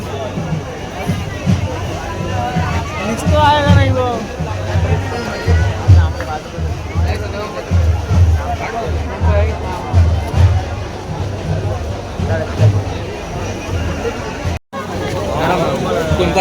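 Dense crowd hubbub of many overlapping voices at a palanquin procession, a steady murmur of chatter filling the whole stretch, with a brief dropout near the end.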